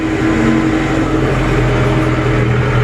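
A Euro Feng 554 Pro tractor drives along with its engine producing a loud, steady low rumble and drone that holds constant throughout, with no voices.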